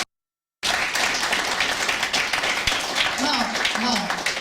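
A church congregation claps and applauds in praise, a busy wash of clapping that starts abruptly after a short silence, with voices calling out over it.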